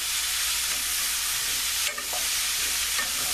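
Vegetables sweat in a pot with thyme and a bay leaf, giving a dense, steady sizzle, loud and close, broken by a brief stirring scrape midway, with no one talking.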